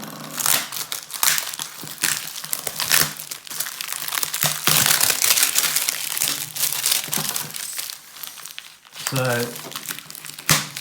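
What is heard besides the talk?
unwrapping a Banggood desk tidy package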